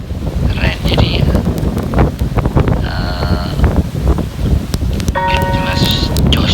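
Typhoon Mangkhut's strong wind in Hong Kong roars and buffets the microphone in a steady rough rush, with brief tonal whistles and squeals breaking through.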